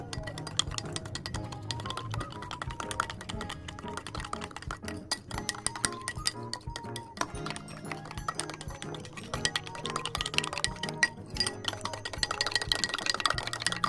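A spoon stirs a Fermipan yeast solution in a bowl for donut dough, giving steady light clinks and taps against the bowl, with a faint tonal background throughout.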